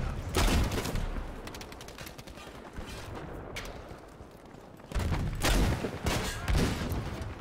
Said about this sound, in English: Oh, it's a burst fire!